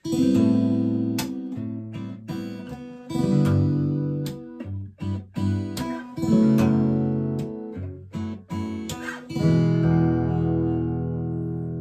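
Acoustic guitar strings are raked and rolled in quick broken-chord strokes, ringing bright and close, with no talking.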